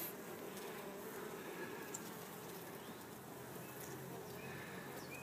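Honey bees hum steadily around an open hive during an inspection on an overcast day, a dense continuous buzz close by with no talking.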